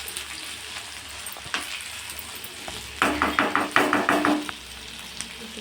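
Ivy gourd and tamarind frying in a pan for chutney: a steady sizzle with scattered light knocks, then a burst of rhythmic stirring scrapes around the middle before the frying settles back to a soft hiss.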